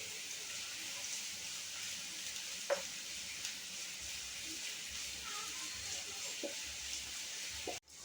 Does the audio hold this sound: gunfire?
no